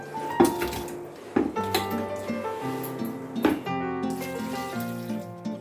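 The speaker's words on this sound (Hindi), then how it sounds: "इसको मैंने अच्छी तरह धो के प्रेशर कुकर में डाल रही हूँ" One kilo of washed mutton is dropped into a pressure cooker in a home kitchen, with several sharp clanks of metal, wet thuds and light rattling at irregular intervals, close and clear.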